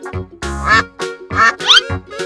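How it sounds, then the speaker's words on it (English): Cartoon-style duck quacks, a series of nasal honking calls in quick uneven succession, loud and close with nothing else behind them. "Duck."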